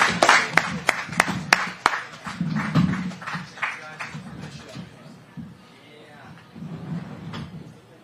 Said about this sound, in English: Let's give a big round of applause to Cooper Webb, Eli Tomac, and Aaron Plessinger.